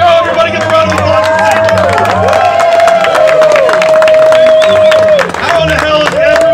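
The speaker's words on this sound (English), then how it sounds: "Yeah, let's go, everybody, get a round of applause." A crowd at a political event bursts into sustained applause and cheering, dense clapping and shouts filling the room while a voice carries over the noise.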